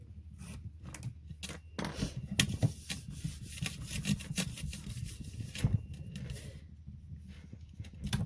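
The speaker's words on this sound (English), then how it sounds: "And just pull it around. And burnish it well." Glued paper on a mini album cover is burnished by hand, giving repeated close rubbing and scraping strokes in an irregular rhythm, fairly loud, with no talking.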